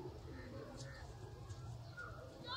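Pigeons of fancy breeds such as teddy and golden pigeons coo softly and repeatedly in a faint, low murmur with light background noise.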